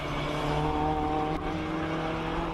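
A 5.7-litre 8-cylinder Cobra classic car racing up a hillclimb course, a loud sustained engine roar with steady revving tone, continuous and fairly close, no voices.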